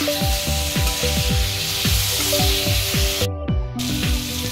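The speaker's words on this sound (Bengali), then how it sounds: "মশলার সাথে আলুটা ভালো করে কষিয়ে নিচ্ছি। আলু কষানোর সময় মশলার সাথে গ্যাসের ফ্লেমটা আমি কিন্তু বাড়িয়ে দিয়েছি।" Potatoes being sautéed with spices in a pan over a raised gas flame, a loud close sizzle with repeated rhythmic scraping strokes of a spatula stirring throughout, briefly interrupted by a short gap.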